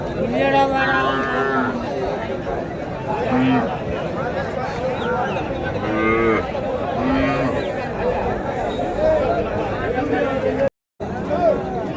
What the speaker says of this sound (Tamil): இன்றைக்கி திருப்பத்தூர் மாவட்டம் மற்றப்பள்ளி மாட்டு சந்தைக்கு நான் வந்திருக்கோம்.